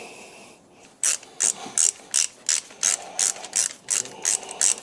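A ratchet fitted with a 15mm socket tightens a bolt on a Porsche 911 996 engine, clicking in twelve short, evenly spaced bursts after a brief quiet start, close and crisp with no talk.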